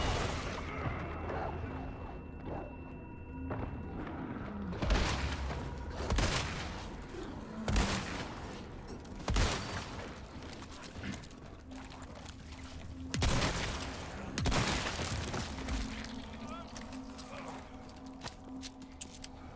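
Repeated gunshots in Resident Evil 4 during a messy fight with a wolf, loud sharp reports at irregular intervals over a tense musical background, with a voice talking at the start.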